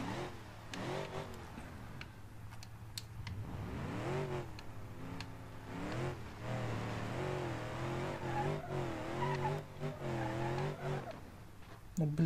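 Off-road 4x4 car in BeamNG Drive climbing a hill, its engine revving up and down in repeated rising and falling surges, with tire scrabbling and squeals, heard fairly quietly under someone talking.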